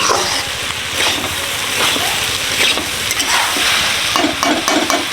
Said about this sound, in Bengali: সবজির সাথে আলু ভাজা